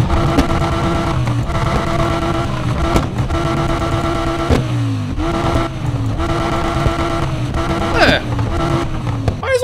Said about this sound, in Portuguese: Vamos dar uma olhada agora no som do escapamento.